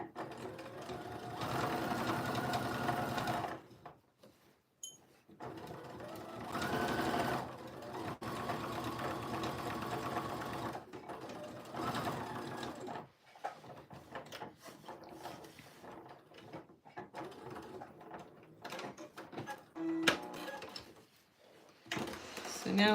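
A sewing machine stitches a curved edge of jeans in bursts of steady whirring separated by pauses, with someone speaking quietly in between and occasional clicks of fabric handling.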